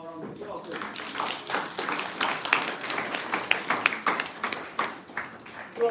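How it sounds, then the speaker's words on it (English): Audience at a university employability awards ceremony gives a sustained round of applause, dense overlapping clapping that holds steady for several seconds without fading. "can we give the Student Futures team one more round of applause?"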